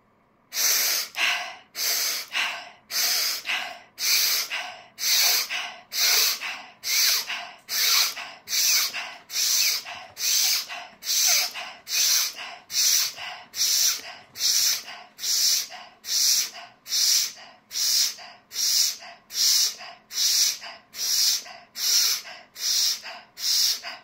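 Deep breathing exercise performed close to the microphone, a long steady series of forceful, rhythmic inhale-exhale breaths repeating about once per second throughout, loud and alone with no talk.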